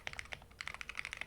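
Typing on an upgraded cheap Amazon mechanical keyboard with unlubricated stock switches: a rapid, uneven run of crisp, close keystroke clicks, fairly quiet, with no talking.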